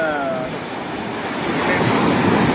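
Ocean surf washes onto a beach at Gokarna, a loud continuous roar of breaking waves mixed with gusting wind against the microphone, steady and close.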